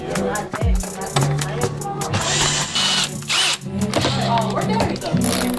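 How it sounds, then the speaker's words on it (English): Power drill whirring in short bursts, stopping and restarting several times, close and loud, with voices talking in between. "Okay, you want to drill a hole?"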